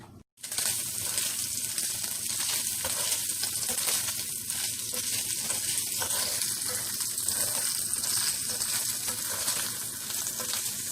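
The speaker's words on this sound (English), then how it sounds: "Trying to make that bacon a little crispy" Bacon sizzles and crackles steadily in a hot pan, a dense, close, even frying hiss that carries on without pause after a brief quiet start.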